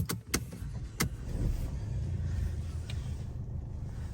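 A 2024 Ford car starts: a few sharp clicks, then the engine catches and settles into a low steady idle rumble close by, with no talking.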